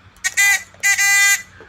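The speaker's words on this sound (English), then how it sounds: "John, Uncle Bruce, hit your buzzer button." A game-show style buzzer button pressed twice during live stock market commentary, giving two loud, bright harmonic buzzes, each about half a second long, close and alone with no talk over them.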